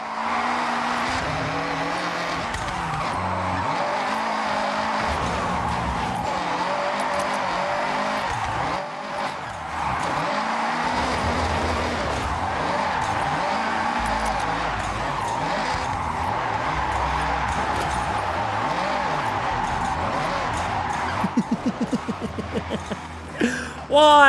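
A car engine in a racing video game revs steadily and loud while the vehicle slides through a corner on the handbrake, with tyre noise throughout and a burst of rattling near the end.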